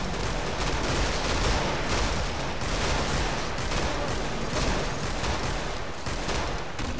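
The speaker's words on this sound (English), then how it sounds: "Shoot me with that fucking minigun" Continuous minigun fire in the co-op shooter Killing Floor, a dense, unbroken roar of rapid shots running steadily for the whole stretch at close range with no talk.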